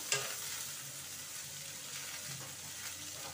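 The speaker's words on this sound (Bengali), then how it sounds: "ফুলকপিটা দিয়ে দিলাম" Cauliflower frying in hot oil in a pan, giving a steady, hissing sizzle that stays even throughout after a brief clatter at the start, moderately quiet and close.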